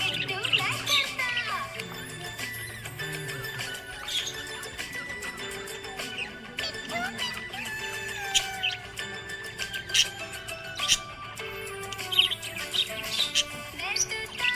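A happy budgie chirps and tweets in scattered bursts over a children's song about a parrot, the bird calls mixed under steady music and singing.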